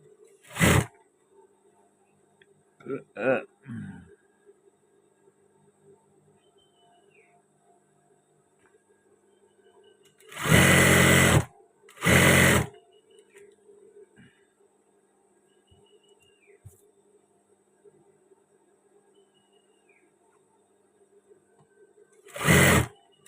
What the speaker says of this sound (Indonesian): Nah, ini kita pas jahit terlebih dahulu untuk badannya.